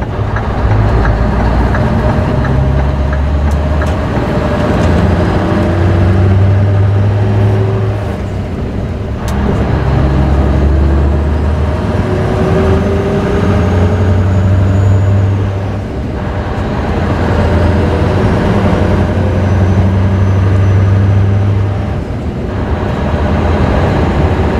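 A 2006 Scania T500 truck with a V8 engine on a test drive gives a loud, steady low drone that swells and eases slightly as it runs, with no talking over it.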